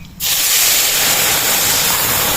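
Boiled masoor lentils poured into hot oil tempered with dried red chilli, bay leaf and panch phoron, cooking sour dal with raw mango; a sudden loud, steady hiss bursts up and holds, close and continuous.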